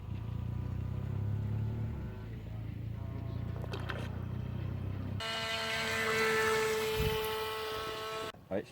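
Remote-controlled model boats at an airfield: small electric motors whine steadily, shifting pitch and growing louder and brighter partway through, then cutting out near the end.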